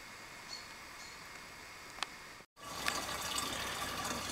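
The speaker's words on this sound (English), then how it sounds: "Filling up one of the 5-gallon jugs." Water running from an artesian well tap in town into a 5-gallon jug, a steady hissing gush that grows louder and brighter after a brief dropout midway, heard alone without talk.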